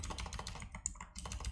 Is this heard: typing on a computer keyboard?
yes